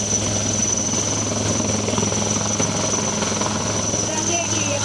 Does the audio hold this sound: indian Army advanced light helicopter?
yes